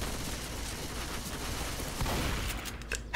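Dense, continuous gunfire from a fight against zombies in Left 4 Dead 2, a loud, steady wash of rapid shots with no gaps.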